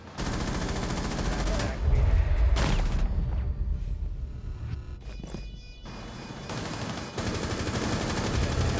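Gunfire from Rainbow Six Siege fills the scene with loud automatic bursts and booming shots, heavy and continuous with brief lulls, with a commentator's voice faintly underneath at times.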